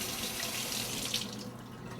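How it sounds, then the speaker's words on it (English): Cold tap water runs steadily into a sink while raw chicken is washed under it, a continuous close splashing stream. "we will wash the chicken under cold water"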